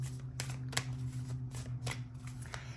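Tarot cards handled and shuffled close by: a rapid series of papery riffles and flicks in irregular bursts over a low steady hum, with no talk.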